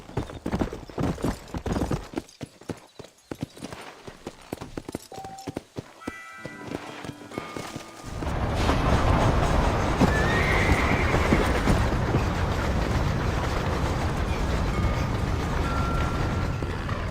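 A horse in the video game Red Dead Redemption gallops with rapid hoofbeats and a neigh, then breaks into a loud, dense, continuous galloping rush that fills the second half.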